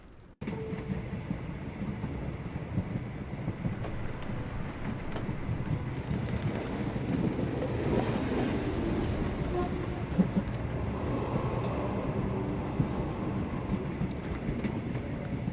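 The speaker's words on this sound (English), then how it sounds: "If we hurry, we can still catch tonight's train." Video game train running on rails heading to Interlaken, Switzerland, a steady rumbling clatter that holds constant throughout, with some speech in the scene.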